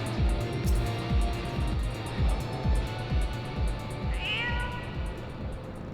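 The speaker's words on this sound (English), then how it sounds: "That fucking cat again." Repeated cat meows from Final Fantasy XIV, a game character's call sounding over a steady pulsing music bed, several cries spaced through the stretch with one higher wavering yowl near the end.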